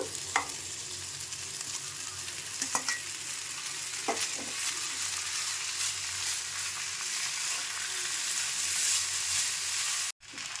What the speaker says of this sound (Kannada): ಇದೆಲ್ಲ ಬೆಂದಿದೆ, ಹಾಗೆ ಸಾವಿಗೆ ಹಾಕ್ಕೊಂಬಿಡೋಣ